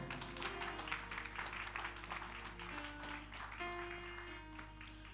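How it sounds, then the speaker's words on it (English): A church audience claps their hands in a dense, continuous patter with a steady low hum underneath, at a moderate distance and without speech. "Clap your hands if you can."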